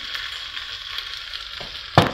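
A pan of julienne sizzles steadily with a soft crackling hiss, and a brief clatter comes near the end.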